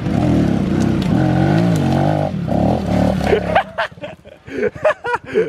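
Pit bike engine sputtering to life and running with a loud, steady rough drone, then breaking into a series of sharp uneven revs near the end.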